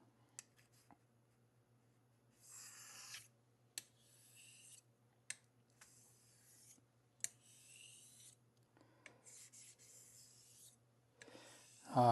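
A straight razor honed on a sharpening stone, working toward a good bevel shape: soft scraping strokes in separate bursts with short pauses between them, and faint clicks, all fairly quiet over a low steady hum, with no talking.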